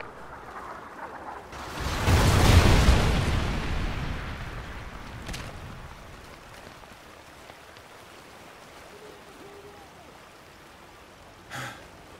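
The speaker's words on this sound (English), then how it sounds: "Friendly Trinity rocket inbound." A Trinity rocket strike explodes in Call of Duty: Ghosts: one loud, close blast booms out and rumbles away over several seconds, followed by a quieter background and a brief faint thump near the end.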